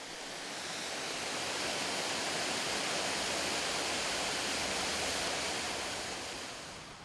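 A Scottish waterfall pours in a loud, steady, broadband roar that holds constant throughout, with no other sounds over it.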